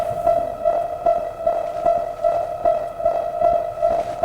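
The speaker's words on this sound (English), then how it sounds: "the music is now much more sinister, making Phenomenon appear pretty damn scary." Sinister music from the video game Dispatch, built on a steady droning tone with a faint repeating pulse, plays at moderate volume with no speech.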